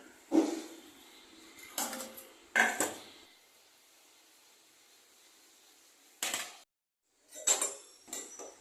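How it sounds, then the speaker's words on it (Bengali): Dishes and utensils washed by hand after tea, with sharp metallic clinks and clatters of pots and cutlery in scattered bursts, separated by quiet pauses. "চা খাওয়া শেষ, এখন বাসন কটা আছে, এগুলি মেজে নিচ্ছি।"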